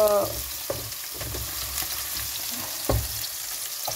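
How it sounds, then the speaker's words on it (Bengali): Steady sizzling of fish and onions frying in hot oil, with occasional stirring clinks and scrapes, no voices. "এইদিকে মাছটা ভাজি করে নিচ্ছি, আর এদিকে আমি পেঁয়াজটা একটু ভাজি করে নিচ্ছি"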